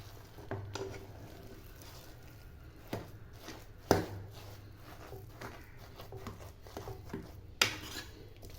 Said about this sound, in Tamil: நல்லா கிளறி விட்டுக்கலாம்